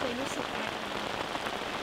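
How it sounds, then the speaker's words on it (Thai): Heavy rain pours onto a pitched tent at a campsite in Sukhirin, Narathiwat, making a dense, constant close-up hiss that barely changes and fills the whole moment. "ฝนตกหนักมากข้างนอกอ่ะ"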